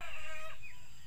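Free-range village chickens cluck in a brief, fairly close burst with a faint outdoor hum behind, no talking.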